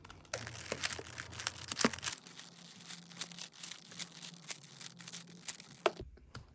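Rapid plastic clicks and rattles from a 3x3 Rubik's cube being shuffled by hand, a dense close-up run of small snapping turns that stops abruptly near the end.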